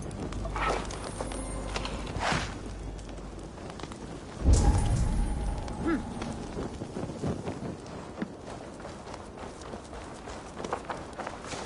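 Horse hooves clip-clop at a steady walk in Assassin's Creed Valhalla on PS5, soft repeated steps under a light wind wash with a louder thump midway.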